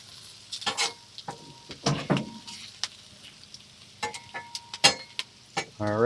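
Potatoes sizzling in bacon grease on a griddle of a Masterbuilt Gravity Series grill, crackling sizzle broken by sharp scraping and clicking spatula strokes as they are turned, close and irregular without talk.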